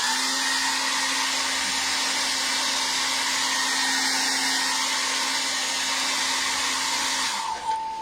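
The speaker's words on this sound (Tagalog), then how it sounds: "I use a Philips Essential Care Compact 1200 watts hair blower" A Philips Essential Care Compact 1200-watt hair dryer blows steadily with a loud, even whir and a constant hum for several seconds, then switches off near the end.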